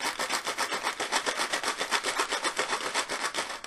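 Bigger rocks rattle inside a homemade shaker shaken back and forth in an even rhythm, a coarse scraping swish repeating several times a second, close-up and alone.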